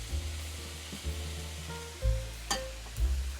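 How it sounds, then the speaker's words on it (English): Bean sprouts are stir-fried over medium-high heat in garlic-flavored oil, a soft continuous sizzle broken by low clunks and scraping of the spatula against the pan at irregular intervals, with a sharper clatter midway. "Throw in the bean sprouts and stir around for about 15 seconds"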